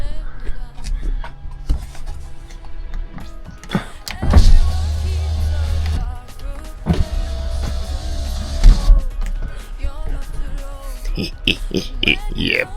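Electric car windows driven through a PDM spliced into an old car's wiring loom whir in repeated bursts of motor hum with clunks, loud and close, while someone speaks over parts of it.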